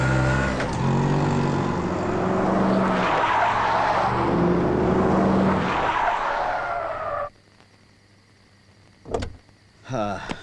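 An auto rickshaw roars up loudly with a screech of skidding tyres, its engine running for about seven seconds before it cuts off abruptly. Two short knocks follow in the near silence.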